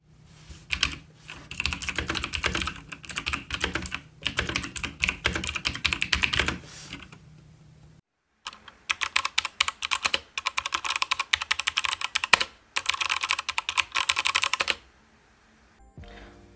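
Motospeed CK61 mechanical keyboard keys clattering in rapid, continuous bursts, close and crisp, with two brief pauses between typing runs.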